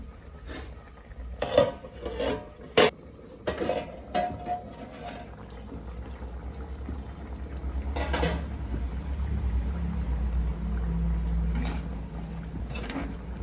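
First coconut milk goes into a simmering pot of spicy Jaffna-style crab curry; a few clinks of utensils against the pot come first, then a steady, swelling wash of pouring and bubbling liquid.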